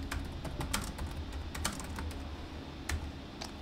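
Rapid keystrokes on a computer keyboard, a dense run of sharp clicks at a steady typing rhythm, close and clear with no voices.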